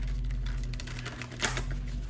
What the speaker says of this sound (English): I'm getting better at shuffling this deck.